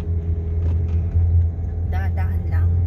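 Low, steady rumble of trucks laboring up a steep uphill road toward Baguio, a heavy engine drone that holds throughout, with brief voices breaking in near the end.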